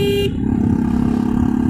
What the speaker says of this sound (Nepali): मेरो चाहिँ हर्न पनि होइन अलिकति खोइ के भए जस्तो क्या कहिले बज्ने कहिले नबज्ने भइरहेछ